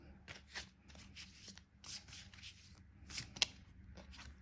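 Tarot cards being handled and shuffled close by, a quiet series of soft riffling swishes and slides with one sharp tap near the end.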